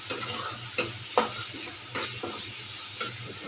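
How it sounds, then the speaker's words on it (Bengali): Masala paste with salt and turmeric fries in oil, a steady sizzle broken by several sharp scrapes of a spatula stirring and pressing it around the pan, close up with no talking. "লবণ আর অল্প হলুদ দিয়ে আমি মশলাটা কষে নেব।"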